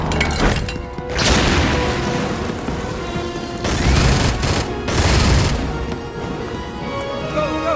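Heavy grenade blasts and gunfire in a Stargate Atlantis battle scene, several loud booming explosions with crackling debris and shots layered over one another, close and continuous.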